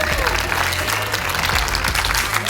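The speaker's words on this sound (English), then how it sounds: "Massive round of applause, everybody" Conference audience applauding as a speaker is welcomed on stage, continuous crowded clapping with some background voices and a low musical bed underneath.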